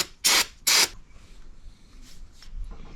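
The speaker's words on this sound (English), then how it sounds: "I'm gonna spray this with brake cleaner. Wow, this is, holy cow, this is forceful." Aerosol brake cleaner sprayed onto a Can-Am 700 XMR during an oil and fluid change, two forceful hissing bursts in quick succession, then a low rustling workshop background.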